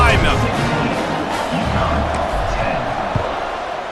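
A stadium crowd roars in the video game EA Sports College Football 26 at a UConn Huskies versus Buffalo kickoff, a broad continuous cheer with a commentator talking over it.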